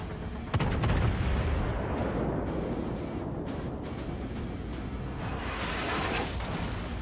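Naval guns fire in World of Warships during a battle aboard the heavy cruiser Nachi, with a loud booming salvo followed by a long rumbling barrage that stays steady and dense for several seconds.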